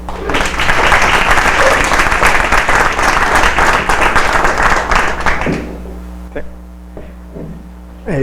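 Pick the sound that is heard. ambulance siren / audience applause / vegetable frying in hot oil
audience applause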